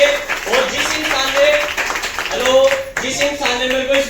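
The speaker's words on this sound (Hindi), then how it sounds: "साहब एक बार जबरदस्त तालियां मारेंगे साहब मेरी समझ टीम के लिए।" An audience at a motivational business talk claps together in a sustained round of applause, with voices and other sound mixed in throughout.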